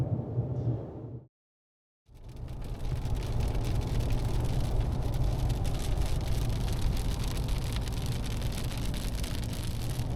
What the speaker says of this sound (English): it's actually just started raining now as well